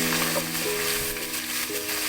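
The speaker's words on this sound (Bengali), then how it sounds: "তারপর মশলাগুলোকে আবার ভালো করে ভেজে নেব।" Ground turmeric, chili and cumin powder frying in oil in a pan for a Bangladeshi mung dal with rohu fish head. A steady, dense sizzle runs throughout with faint stirring scrapes, and no voices.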